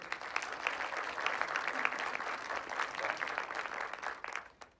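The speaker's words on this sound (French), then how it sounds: "Bienvenue et des applaudissements une nouvelle fois." Audience applause at a press conference at Avignon Geek Expo 2020, greeting a Harry Potter actor: a steady, dense wash of many hands clapping throughout, then fading out at the end.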